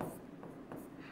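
Pen or chalk writing during a Hindi-medium physics lesson, a few short faint scratchy strokes over a quiet room tone.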